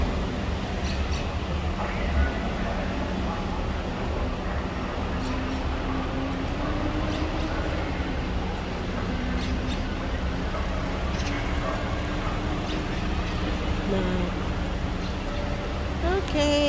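Busy street ambience at Piccadilly in Manchester, a steady wash of traffic rumble and crowd murmur with occasional higher tones and clatters, continuous and moderately loud throughout.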